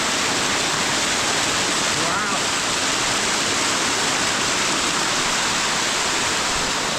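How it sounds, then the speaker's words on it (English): A waterfall pours steadily nearby, a loud, even rush of flowing water that continues without a break from start to finish. "down there there's a waterfall, man"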